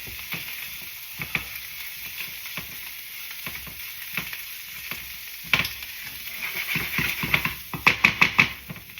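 Peppers sizzle in a hot pan for an étouffée, a soft continuous frying hiss with scattered spatula taps and stirring clicks that grow busier and louder toward the end, close up and without speech.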